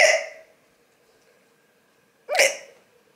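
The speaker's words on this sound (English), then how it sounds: "I get hiccups all the time." A woman gives two distinct hiccups, close and clear, spaced about two seconds apart in an otherwise quiet room.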